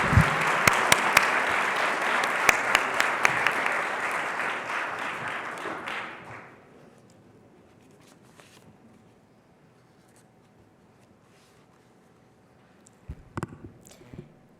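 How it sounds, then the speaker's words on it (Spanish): Audience applause welcoming a speaker at a tenth-anniversary corporate event, a loud crowded round of clapping that stops abruptly after about six seconds, leaving a quiet room with faint shuffling and a few clicks near the end. "Recibámosla con un muy fuerte aplauso"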